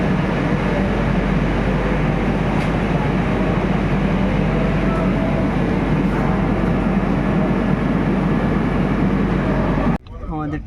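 The Shalimar Express rolls out of Kharagpur Junction with a dense, steady rumble heard from inside a carriage. Indistinct voices mix into the noise until it cuts off abruptly near the end.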